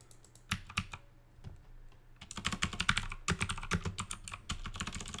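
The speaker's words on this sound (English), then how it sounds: "Can you guys hear me typing and shit back here?" Rapid typing on a computer keyboard close by in a quiet room, a few scattered keystrokes at first, then a dense, steady run of clicky keypresses.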